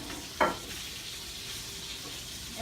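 Duck breast (magret de canard) searing in a hot pan, a soft continuous sizzle with one brief sharp clatter near the start, quiet and without speech.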